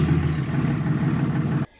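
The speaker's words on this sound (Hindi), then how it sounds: "ट्रक का इंजन गरजा" A truck engine starts and roars on a mountain road, a loud, steady rumble that runs strong for under two seconds before cutting off abruptly.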